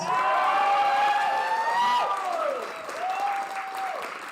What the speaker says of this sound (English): Everyone please give Crystal a round of applause.